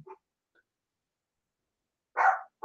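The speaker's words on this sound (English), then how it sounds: "sorry for my dogs" Dogs barking at a home as new neighbors drive up, one short distant yip followed by a louder, nearer bark after a pause, with silence between.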